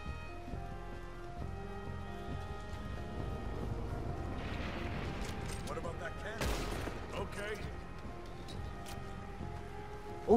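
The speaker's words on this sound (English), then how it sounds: "Oh yeah, the cannon." A cannon booms once in Red Dead Redemption 2 during a military prison break, a loud broadband blast about midway through, set over a steady bed of game music and ambient noise.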